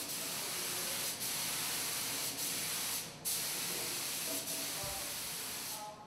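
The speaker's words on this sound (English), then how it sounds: "the harpsicles are spray painted." A spray gun spray-painting harp frames and sound boxes hisses in long continuous bursts, broken by brief pauses, close and fairly loud.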